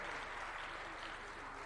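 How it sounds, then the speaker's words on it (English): Applause from an audience at an eLearning Africa conference, a steady, dense wash of many hands clapping that stays even and fairly distant for the whole moment. "So a round of applause."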